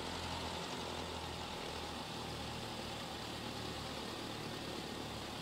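A Cessna 152 engine idling just after start in Microsoft Flight Simulator 2020, a steady, even drone held without change throughout, with no talking over it.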